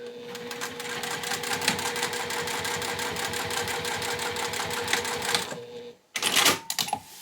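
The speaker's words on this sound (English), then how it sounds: "I just take it over the machine and I'm just going to baste that in place." A sewing machine runs a steady, rapid basting stitch through a zip wallet's lining, even mechanical chatter for about six seconds before a brief pause and a short final burst, close by with no talking.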